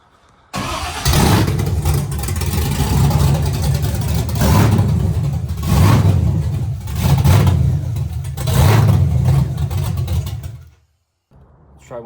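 Small car fitted with a swapped LS V8 engine cranking over and catching, then revved in several surging bursts at close range, loud throughout, before cutting off abruptly near the end.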